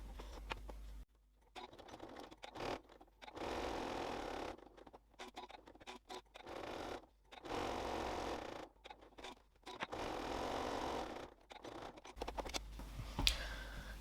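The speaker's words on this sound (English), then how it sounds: "I'm going to stitch around the sides and the bottom with a 3mm or 1/8 of an inch seam allowance" A sewing machine stitches a seam around a felt pocket on an iPad case or e-reader cover, running in short bursts of steady whirring separated by brief pauses, quiet and close.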